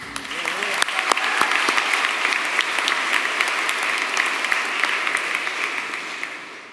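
Graduates and guests at a morning graduation ceremony clap together in sustained, even applause from a large crowd, with sharper individual claps standing out near the start before the sound thins slightly toward the end.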